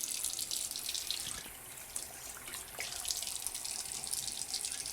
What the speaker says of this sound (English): you turn on the faucet. You want to wet your hands first.